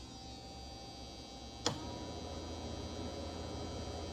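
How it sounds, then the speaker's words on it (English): The bilge blower on a 1948 18-foot Sportsman boat gives a faint, steady electrical hum and drone, broken once by a short sharp click. "Now the blower speeds up."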